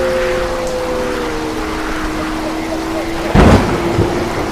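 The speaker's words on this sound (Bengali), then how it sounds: "অঝোর ধারায় বৃষ্টি নেমেছে।" Heavy rain pours steadily during a thunderstorm, with a loud, sharp crack of thunder near the end that rolls off, plus a faint tonal hum under the downpour.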